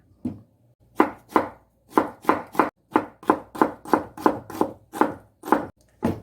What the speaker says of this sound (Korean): 양파 썰겠습니다